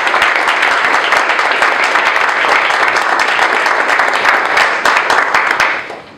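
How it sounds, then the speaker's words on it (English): Sustained applause from an audience at a public meeting on youth violence prevention, loud and dense throughout before tapering off at the end. "So if we can give them a round of applause,"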